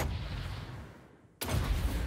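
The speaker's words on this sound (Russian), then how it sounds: "О, взрыв, взрыв, взрыв, взрыв, взрыв, подожди." Explosions in the strategy game Total War: Warhammer 2, during a Skaven Clan Eshin battle: a heavy broadband rumble fades away, then a sudden loud blast bursts in and stays dense and booming.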